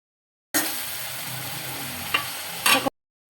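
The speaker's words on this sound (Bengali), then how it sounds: "পেঁয়াজগুলো সিদ্ধ হওয়ার জন্য একটু জল দিয়ে দিব। পেঁয়াজগুলো এখন একটু সিদ্ধ হোক।" Onions simmering in a pan with a splash of water for a chepa fish bhuna, a steady soft sizzle and hiss with a couple of brief stirring scrapes, close by and without talk.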